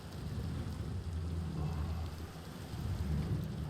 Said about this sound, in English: We can hear rain because there's a hole that comes down here somewhere